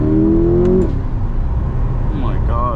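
C8 Corvette engine revving briefly with a sharp rising tone at the start, then settling into a steady rumbling drive with road and wind noise.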